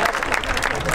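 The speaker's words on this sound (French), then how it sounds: "un immense merci pour vos applaudissements" Applause from a crowd at an outdoor air show in Tallard, a dense, steady patter of many hands clapping for about a second.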